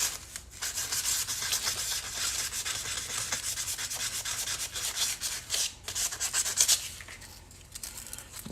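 A guitar pick is roughed up with sandpaper on a small work surface, giving a continuous close scratchy rub in steady back-and-forth strokes that pause briefly around the sixth second before resuming.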